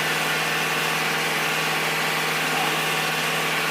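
Fuel-injected light vehicle engine running steadily at about 2000 rpm, a continuous even hum with a constant low tone, heard close and alone with no talking.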